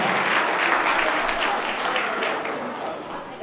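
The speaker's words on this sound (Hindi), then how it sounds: "देवियों और सज्जनों, एक बार ताली तो बजा दो।" Warm, sustained applause from an audience at a national Arya youth council foundation-day gathering, loud and steady before slowly easing off toward the end.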